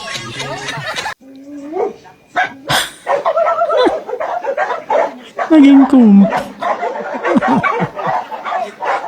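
A dog barks and yips in short bursts amid constant, lively talk from several people at a Filipino gathering.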